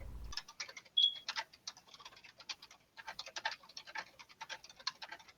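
Rapid light clicking of keys on a keyboard, irregular bursts of taps with short pauses, close and fairly quiet, no talking.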